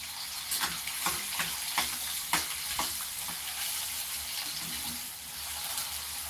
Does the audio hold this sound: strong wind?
no